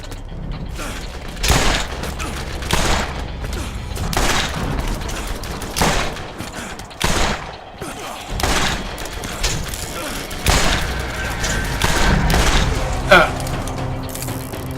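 Shotgun blasts in the video game Borderlands, a series of loud, punchy shots at irregular intervals mixed with mechanical clanks and reloading clatter, with talking in between.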